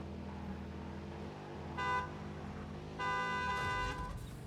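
A car horn honks in a video game, two bursts of about a quarter second and almost a second, over steady engine and game background sound.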